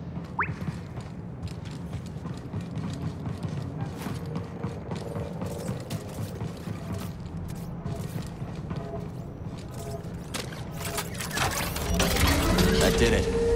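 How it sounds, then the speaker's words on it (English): Array powering up in a Star Wars video game, clanking, ratcheting mechanical sounds over a low hum that swells louder and denser toward the end as the machinery comes to life. "Sounds like the array is powering up"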